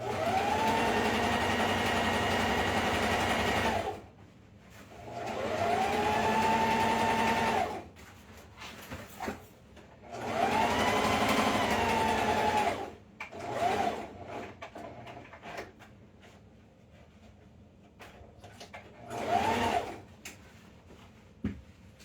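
A sewing machine stitching clothes runs in several sustained whirring bursts with short pauses between, close and steady, with no talking.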